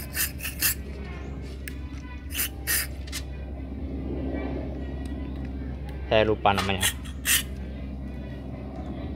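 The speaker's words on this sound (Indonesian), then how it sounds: "Dan pastikan semua lubang bisa semprot ya." Short hissing bursts of carburetor cleaner sprayed into the passages of a Honda Supra X 125 carburetor during a service, three or four quick blasts spread across the clip, close and sharp, with someone talking between them.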